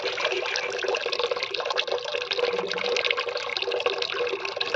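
Running water splashes steadily over cut rohu fish pieces being washed in a kitchen, a continuous close rush of tap water without pause.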